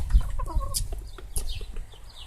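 Chickens cluck close by in short, irregular bursts, with a brief sharp squawk and some scratching and movement mixed in, no talking.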